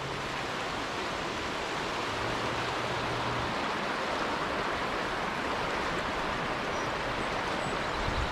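Floodwater from Black Falls rushing into the swollen Trout River in northern Vermont, a steady, dense roar of turbulent flow that stays constant and close throughout.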